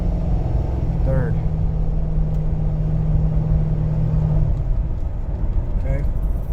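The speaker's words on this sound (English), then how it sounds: "No issues while shifting. The car shifts perfectly fine." A 2008 Ford Crown Victoria Police Interceptor runs through its gears from inside the cabin, with a steady loud engine and road rumble, a sustained low drone that shifts pitch, and a voice speaking briefly over it.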